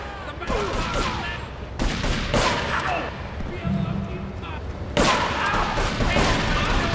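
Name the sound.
shotgun fire in a video game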